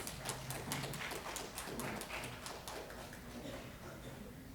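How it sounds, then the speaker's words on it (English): Audience applause at a women's studies symposium session, a steady patter of many hands clapping that holds throughout and fades slightly toward the end. "Let's give them another round of applause"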